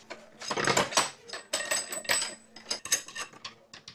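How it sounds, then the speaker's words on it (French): Metal washer and nut set onto a bolt while assembling industrial-style metal shelving, giving a close run of light metallic clinks, taps and small scraping clicks in irregular bursts, no voices. "Tu mets une rondelle en dessous et un écrou"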